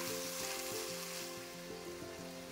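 Onions cooking in a pan with turmeric give off a continuous bright sizzle, close and even, joined by a low rhythmic scraping of a spoon stirring through them.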